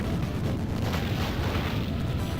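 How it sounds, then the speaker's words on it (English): A tank blows up in the arcade video game The Ninja Warriors, a loud sustained rumbling blast that fills the moment without speech. "the tank explosion's always like right in front of you"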